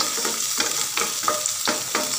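Garlic sizzling and frying in butter in a pan, a steady crackle broken by repeated stirring scrapes roughly every half second, close and fairly loud with no talk.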